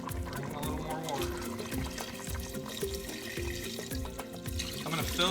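Tap water pours steadily into a soup pot for chicken noodle soup, filling it with a continuous splashing rush under louder background music.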